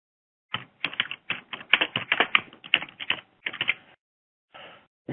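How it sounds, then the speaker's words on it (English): Typing on a computer keyboard, a quick uneven run of close, crisp key clicks in bursts, a short pause, then a few more keystrokes, with no voice. "So I'll just type in here."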